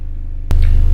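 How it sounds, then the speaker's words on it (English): A diesel generator on a sailboat crossing the Atlantic hums with a steady low drone throughout, then a sudden louder thump as the rumble steps up and continues, heavy and close. "The noise you're hearing is our genset running."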